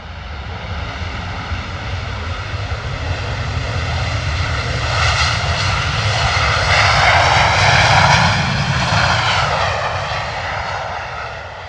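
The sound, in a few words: Boeing 737 jet aircraft engine roar at Stansted Airport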